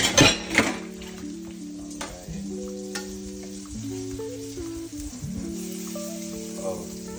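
Pork chops searing in a pan give a steady sizzle, with a couple of sharp clatters near the start as they are flipped, while music plays underneath.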